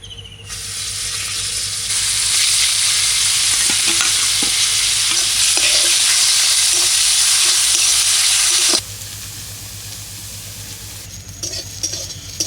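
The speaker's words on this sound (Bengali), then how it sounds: "এবার সেদ্ধ করা লাউটা আমি দু তিন মিনিট ঘিয়ে ভেজে নেব" Boiled bottle gourd frying in ghee in a wok over a village stove for a sweet pudding, a loud steady sizzle with stirring scrapes that cuts off abruptly, leaving quieter background noise.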